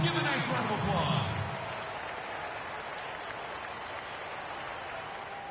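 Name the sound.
arena crowd applauding the Jazz Dancers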